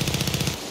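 Rapid machine-gun fire aimed at the player in Far Cry 6 rattles out in a quick burst of about eight evenly spaced shots, close and loud, then cuts off.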